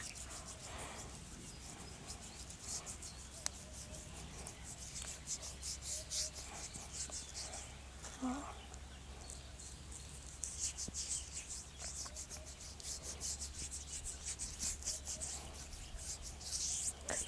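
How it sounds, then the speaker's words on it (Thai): Skin coated in a tamarind scrub mask is scrubbed with a loofah sponge, making a continuous soft rasping rub of fairly low loudness, with faint outdoor birds or insects in the background. "มาร์กทิ้งไว้แล้วก็ขัดด้วยใยบวบหรือว่า ใยสังเคราะห์นะคะ"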